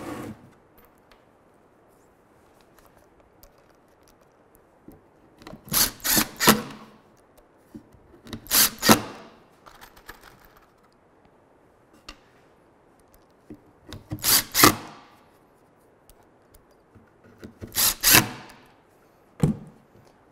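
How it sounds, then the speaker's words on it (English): Screws being driven into a wooden benchtop router table top, heard as four loud close bursts of driving, each lasting about a second, spaced several seconds apart with quiet workshop handling between them. "I have a couple more screws to put in"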